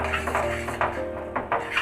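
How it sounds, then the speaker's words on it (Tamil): A spoon stirs dried coconut into a black urad dal ladoo mixture in a pan, with several scraping, clinking strokes against the metal at an irregular rhythm, close and moderately loud. "நல்லா மிக்ஸ் பண்ணிடலாம்."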